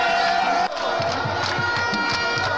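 Football fans from several villages cheer at a village cup final as the goalkeeper is carried aloft, a steady roar of crowd noise filling the clip with rhythmic chanting or drumming underneath.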